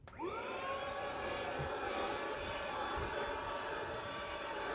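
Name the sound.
small vacuum cleaner switched on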